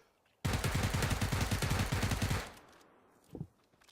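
Rapid automatic gunfire in a video game, a sustained loud burst of dense repeated shots lasting about two seconds, then trailing off into echo with a brief thump after.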